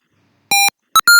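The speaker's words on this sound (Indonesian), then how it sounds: "LED merah akan menyala dan buzzer akan berbunyi singkat" An Arduino buzzer in a heat-index warning circuit gives three short electronic beeps, a slightly longer tone followed by two quick higher-pitched ones, clean and alone.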